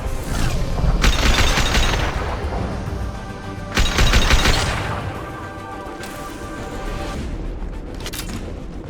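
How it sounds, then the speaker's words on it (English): A concussive shot fired in the sci-fi shooter Mass Effect 2 lands as two loud, heavy booms about three seconds apart, each with a crashing burst and ringing tail, followed by fainter impacts amid combat noise. "Firing concussive shot!"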